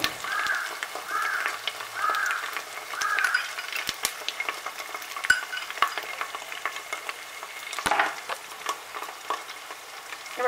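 Ginger paste fries and sizzles in a pan for mutton nihari, a steady crackling hiss with occasional stirring scrapes, and crows cawing faintly in the background.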